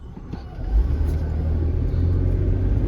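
A 1997 Ford F-150 with the 4.2 engine is heard from inside while driving, giving a steady low rumble with road noise, moderately loud and continuous.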